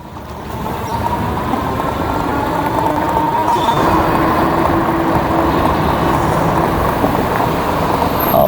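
A VTUVIA Reindeer 2.0 electric bike ridden on throttle alone, with no pedalling: a steady motor whir and rushing road and wind noise that swell after the first second and hold evenly throughout.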